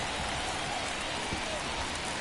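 Steady rain falls in the baseball video game MLB The Show, a dense, unbroken hiss of drops filling the scene at a constant level with no talking.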